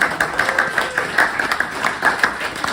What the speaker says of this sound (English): Big clap, thank you.